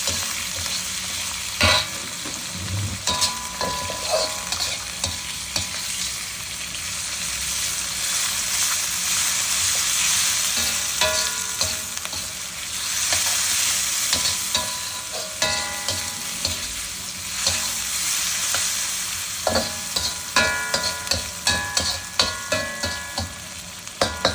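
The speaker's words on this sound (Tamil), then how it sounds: "நல்லா வதங்கி வரட்டும் தக்காளி பழமும்" Tomatoes with mint and coriander fry in a pan while biryani is being cooked, giving a continuous loud sizzle and crackle, with repeated scraping and clinking of a stirring spoon that grows sharper toward the end.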